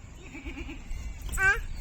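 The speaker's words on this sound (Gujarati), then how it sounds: "બધા બકરા હે ને બધા મામ મામ કરવા માંડ્યા" Several goats in a village bleat together, rising wavering calls that swell toward the end over a low rumble of background noise, fairly close by.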